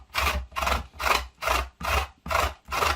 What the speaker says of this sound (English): we'll get the lemon and just scrape it down to get the zest from the